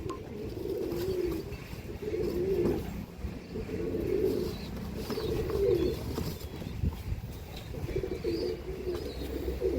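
Top-quality tournament racing pigeons from Andhra Pradesh coo in repeated rolling bursts at a moderate distance, the calls recurring every couple of seconds over a low background hum with no voices.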